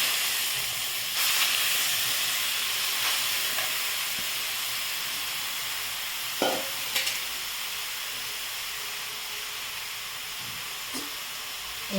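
Grated carrots frying in hot ghee for carrot halwa, a continuous bright sizzle and hiss up close, with occasional stirring scrapes and clinks of the spoon.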